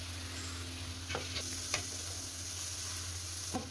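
Onions fry in a pan with spices for a bitter gourd curry, giving a quiet, steady sizzle under a few scraping stirs. There is no talking.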